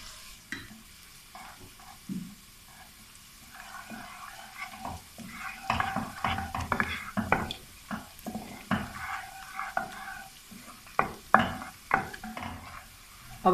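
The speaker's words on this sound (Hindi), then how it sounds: "ऑयल थोड़ा सा गर्म हो गया है, तो सबसे पहले हम इसमें डाल देंगे कटा हुआ लहसुन। और इसको थोड़ा सा फ्राई कर लेते हैं।" Chopped garlic frying in hot oil gives a soft sizzle, joined by repeated scraping and clinking of a spoon against the pan that grow louder and busier through the clip.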